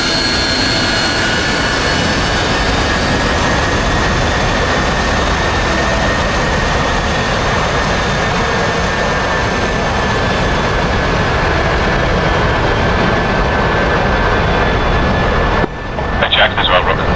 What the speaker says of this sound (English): So, to celebrate before debrief, on go, we're going to go full throttle.